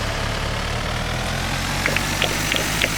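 A tractor engine idles and runs with a steady low rumble in the farming video game Dinkum, with a few faint higher clicks or chirps near the end and no speech.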